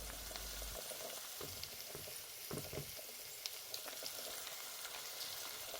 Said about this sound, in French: dans ma casserole, j'ai mis de l'huile de palme ou huile rouge, ainsi que la moitié de l'oignon que j'avais réservé tout à l'heure.